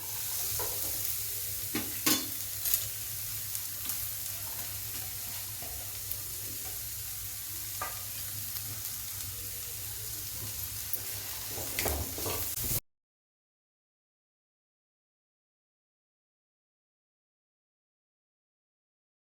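Chopped onion frying in a little oil in a pan for paratha, giving a steady, close sizzle with occasional scraping stirs for about thirteen seconds before it cuts to silence.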